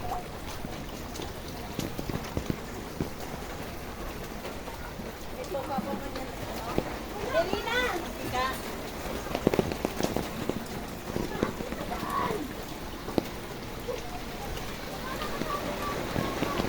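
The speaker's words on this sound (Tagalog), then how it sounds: "Ulan!" Steady patter of rain falling on surfaces during a flood in mountain country, with scattered drips and splashes, while people talk intermittently in the background.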